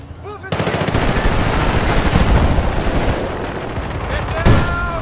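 Rapid machine-gun fire in Battlefield Bad Company 2 bursts in loud and nearby, rattling continuously for several seconds with a sharp blast near the end, and faint voices underneath.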